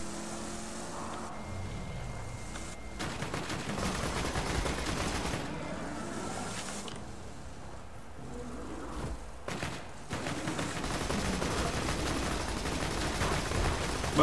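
Dense, continuous automatic gunfire in the video game Borderlands 2, with loud rapid bursts and volleys spread across the whole stretch, a vehicle engine rumbling underneath and no speech.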